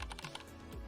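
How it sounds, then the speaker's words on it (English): A quieter computer keyboard used for streaming, typed on in a short burst of soft, muted key clicks, close and low in level. "This is the keyboard I use on stream, and it sounds like this."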